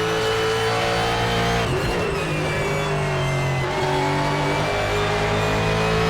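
A Ford GT1 race car engine revs loud and steady in the RaceRoom racing game, holding a dense, sustained roar whose pitch dips briefly and climbs again partway through, with no talk over it.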